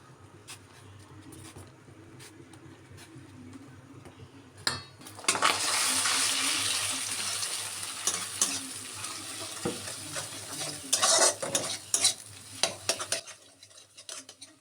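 Maggi noodles stirred in a pot on the stove, quiet at first, then a bubbling hiss joined by scraping and clinks of a spoon against the pot in irregular bursts.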